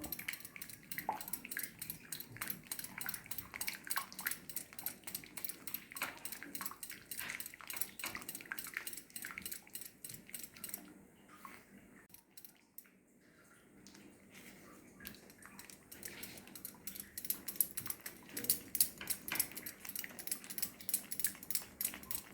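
Orange juice halwa thickens in a pan while a spoon stirs it continuously, producing rapid rhythmic scraping and clinking against the metal with a brief lull midway, close but fairly quiet.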